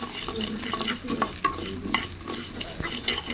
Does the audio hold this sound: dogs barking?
no